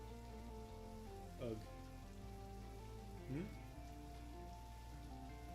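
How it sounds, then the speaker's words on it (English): Rain falls steadily in Necrobarista, a soft constant patter on surfaces under a quiet background music bed, with a brief grunt from a person. "It's raining."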